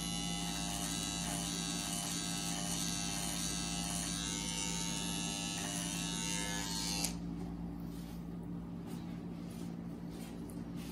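A steady, close electric buzz from a beard trimmer working through facial hair runs continuously, its tone dropping and thinning partway through as the blade shifts position, with no talking.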